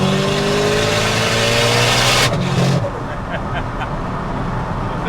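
A 750bhp SEAT Leon Cupra on the road builds boost with a loud, sustained engine roar, then lifts off sharply into a quieter stretch of wastegate and turbo chatter with faint flutters.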